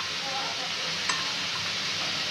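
Chicken being stirred and mixed with chili powder, coriander and salt for chicken fry, a steady close sizzling, scraping hiss throughout with no talk.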